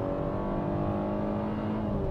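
Hyundai Creta with a CVT and naturally aspirated engine accelerating at full throttle, a steady droning engine whine heard from inside the cabin, sustained and fairly faint without talk.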